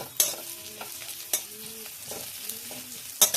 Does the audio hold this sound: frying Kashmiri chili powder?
yes